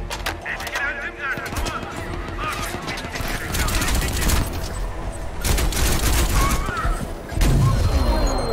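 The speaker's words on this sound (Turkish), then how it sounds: "Orada bir silah karmaşası oldu, ben anlayamadım orayı ya." A chaotic gunfight breaks out in Crysis 2 Remastered, with rapid rifle bursts and scattered shots layered over loud game effects. Several heavy blasts stand out, and a voice talks over part of it.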